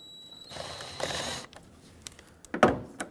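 A ratchet tool loosens 8mm screws on the air intake duct clamps of a 2011-2020 Dodge Grand Caravan 3.6L, a whirring mechanical buzz followed by a few sharp clicks and knocks, close up.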